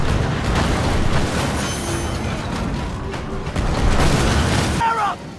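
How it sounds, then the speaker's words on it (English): Ship cannons fire in the naval combat video game Skull and Bones, deep booms rolling under a continuous rumble of battle noise, with someone talking over it. "the game will automatically choose which cannon to fire"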